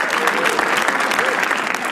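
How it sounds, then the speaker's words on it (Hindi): Audience at a live stand-up comedy roast show applauds the host, steady dense clapping filling the whole moment at a fairly loud level with no pauses. "एक बार होस्ट आशीष सोलंकी के लिए ताली बजाओ सब लोग."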